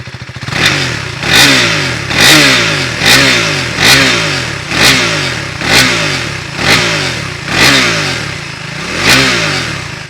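A 2025 KTM 390 Adventure motorcycle with an underbelly exhaust, revved repeatedly in a steady rhythm of about nine loud, close throttle blips, each rising and dropping back toward idle.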